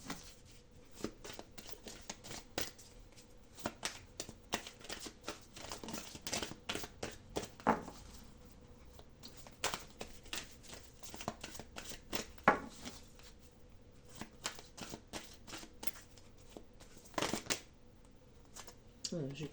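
Cards being shuffled by hand in a run of quick, crisp riffling bursts and taps, repeated irregularly over a stretch with occasional soft speech nearby.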